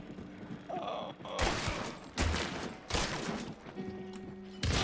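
Gunfire in the video game Hunt: Showdown with Winfield and Swift rifles, several loud sharp shots and bursts in quick succession with mechanical clicks between them and faint background game sounds.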